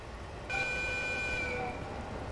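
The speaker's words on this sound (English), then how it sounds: "Wow, that is quite some horn. More like a whistle, really." Horn of a Tohoku commuter train in Train Simulator 2022, a single steady whistle-like tone that holds for about a second over low rumbling running noise, then cuts off.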